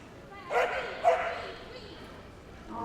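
A Cocker Spaniel barks twice in quick succession while running an agility course at the Crufts 2016 Novice Cup Final, the barks bright and fairly near under a commentator's ongoing talk and arena ambience.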